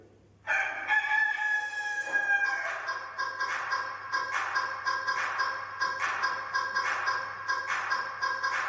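A loud rooster crow rings out close by, followed by a series of rhythmic clucks and calls repeating steadily.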